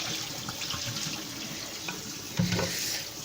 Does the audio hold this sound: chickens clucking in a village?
no